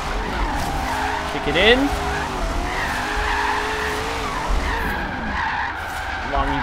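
Tires squeal and skid as a car drifts with a long e-brake pull in Forza Horizon 3, with a steady engine drone underneath and someone talking briefly over it.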